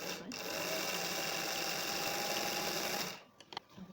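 A sewing machine runs at a steady, fast whir for about three seconds as it stitches the lining to the side seam of a half circle dress, then stops with a few soft clicks.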